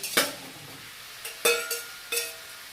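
Spinach is stirred in a cooking pan, with three separate scraping clanks of the utensil against the pan, close and fairly loud, and quiet between them.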